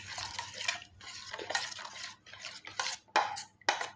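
Ugadi pachadi stirred in a bowl with a spoon, giving wet squelches and clinking scrapes against the sides in short irregular bursts, close and fairly quiet with no talking.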